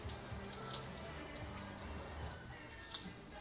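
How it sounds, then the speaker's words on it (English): Water from a garden hose sheets across a waxed car panel, a soft steady splashing wash with faint trickling and light spatter bursts, fairly quiet and continuous. "You just take the hose and you simulate a sheeting action across the entire panel"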